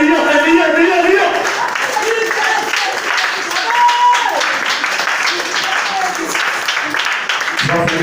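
A church congregation applauds and acclaims, loud sustained clapping mixed with shouting voices and vocal cries of praise throughout.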